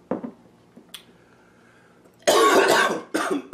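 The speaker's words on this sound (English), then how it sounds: "maybe this will fix my cough" A few faint small sounds are followed by a sudden harsh, loud cough burst and a shorter second cough close to the listener, after tasting a very hot sauce.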